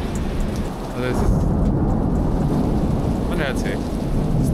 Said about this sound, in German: es donnert in einem durch, ohne Unterbrecher, irre